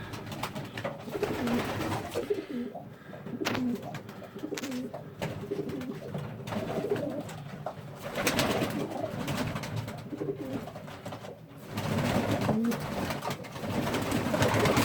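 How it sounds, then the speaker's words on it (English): Coloured race pigeons entering a loft coo repeatedly, several soft throaty calls overlapping, with fluttering and shuffling movement nearby. "we can take a look at the birds as they enter the loft"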